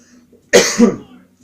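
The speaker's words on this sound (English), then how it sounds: "see, coughing again" One close, harsh cough with a quick second push of breath, heard alone against a quiet background.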